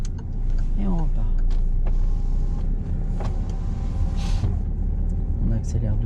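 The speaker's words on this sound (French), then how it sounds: "On accélère doucement." Car on a driving lesson gently accelerating, a steady engine rumble with road noise beneath a driving instructor and learner talking throughout.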